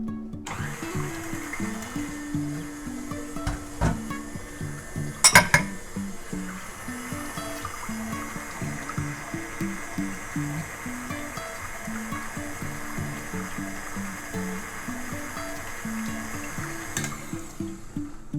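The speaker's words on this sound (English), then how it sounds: "And now we're going to let that get a quick mix." A mixer steadily churns keto bagel dough with two lightly beaten room-temperature eggs, a continuous whirring drone with a few brief clunks near the start and end, running alone without speech.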